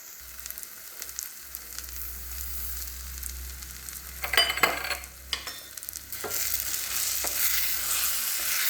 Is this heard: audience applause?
no